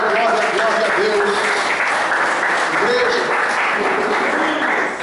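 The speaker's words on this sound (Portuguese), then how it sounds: "Dá uma salva de palmas bem bonita para Jesus" A church congregation applauds steadily and loudly for several seconds, with voices calling out over the clapping.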